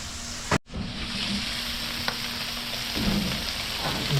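Steak and bacon fry on a Blackstone griddle with a steady close hiss and crackle, broken by a sharp clack of a utensil and a few faint scrapes.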